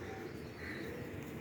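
Pigeons coo softly at a distance over steady background noise, with voices talking nearby, around a loft of paired breeding pigeons up for sale.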